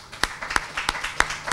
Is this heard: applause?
yes